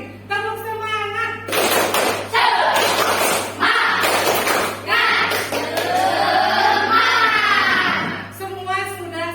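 Schoolchildren do a rhythmic classroom clapping cheer, sharp claps and thumps punctuating their loud chanted voices, with a teacher speaking at the start over a constant low hum.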